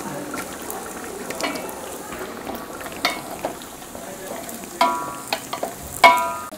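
Onions, curry leaves and green chillies fry with mustard seeds in hot oil, giving a soft steady sizzle with intermittent sharp clanks and scrapes of stirring against the pan.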